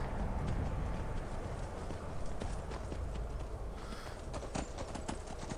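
Horse hooves gallop in a steady, fast clip-clop rhythm across the ground in the video game Skyrim, continuous and fairly close throughout.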